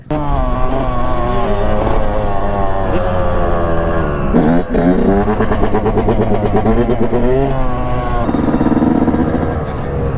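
Dirt bike engine revving hard during a race, a loud continuous buzzing drone with rising and falling pitch sweeps as the throttle opens, close and dominant throughout with another engine mixed in.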